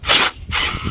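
A ratchet fitted with a 1/2 inch socket works a bolt loose on a lawnmower, giving two short, close, loud clicking strokes in under a second.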